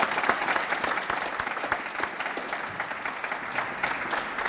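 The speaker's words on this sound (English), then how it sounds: "give yourselves a big round of applause to everyone." Celebration evening crowd applauding, a continuous dense wash of many hands clapping at steady loudness for the whole stretch, with no voices standing out.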